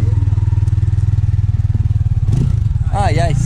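Motorcycle engine running steadily at a riders' meetup on the Uruguayan coast, a loud low throbbing pulse throughout, with voices and shouting rising over it near the end.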